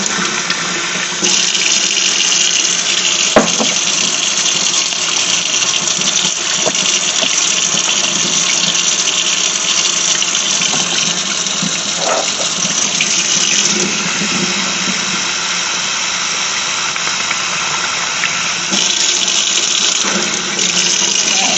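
Water bubbles and churns steadily around jars of turkey meat during canning in a Carey digital pressure canner, a continuous loud hiss-like wash with occasional faint clicks.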